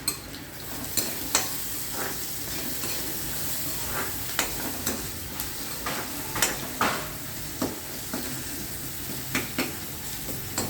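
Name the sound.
onions cooking in a pan with salt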